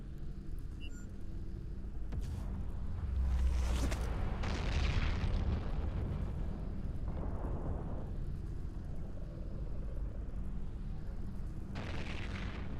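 Weapons fire and explosions from spaceship combat in the EVE Online game, a series of heavy booms and rumbling blasts over a constant low engine drone, loud and dense through the middle with a final burst near the end.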